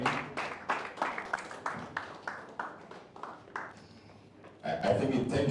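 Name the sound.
audience applause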